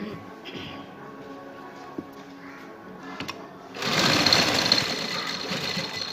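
A sewing machine stitches elastic onto a shalwar's edge, starting as a quiet low hum and then breaking into a loud, steady stretch of close stitching for the last couple of seconds.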